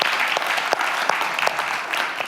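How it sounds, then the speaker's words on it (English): Applause from a church congregation at a morning service, steady dense clapping throughout with a few sharper individual claps standing out, fairly close and sustained without talk. "Appreciate my mom starting that clap."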